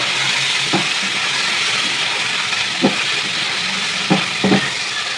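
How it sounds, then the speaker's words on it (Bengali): Tengra fish frying in hot oil in a kadai, giving a steady close sizzle and hiss, with several soft scraping knocks as the pieces are gently stirred. "এই যে এখন হালকাভাবে একটু নেড়ে দেবো।"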